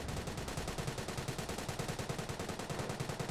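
Rapid automatic gunfire in Company of Heroes, a steady, evenly spaced burst of shots rattling in a fast regular rhythm, moderately distant and without speech.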